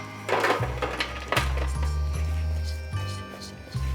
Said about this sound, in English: Now grab another baking sheet and pour out the bread.